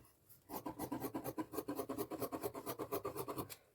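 Scissors cutting fabric for a size 38 blouse along a marked straight line, a steady series of rapid rhythmic snipping strokes, close and fairly loud, with no talk.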